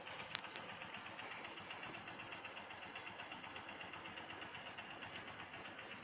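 A 2019 TMX Supremo 150cc motorcycle engine idles quietly with a faint, even ticking pulse and a couple of sharp clicks, steady throughout with no talking.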